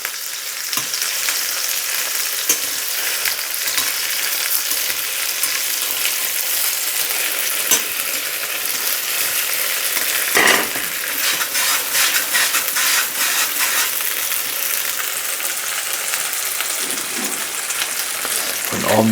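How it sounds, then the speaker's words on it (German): Pierogi fry in butter in a pan with a steady, loud sizzle throughout, broken by occasional crackles and spatters, with no voice over it. "Und die braten wir uns ein bisschen mit dem Butter an."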